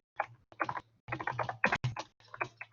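Computer keyboard typing in bursts of quick, close clicks, pausing briefly between runs as figures are entered, with a steady low hum underneath and no voices.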